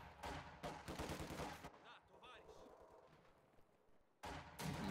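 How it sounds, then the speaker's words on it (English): Mortar fire in the Company of Heroes 2 real-time strategy game, with sharp bursts of distant gunfire and firing reports clustered at the start and end around a quieter stretch of battlefield noise. "Hear the mortar beginning to fire."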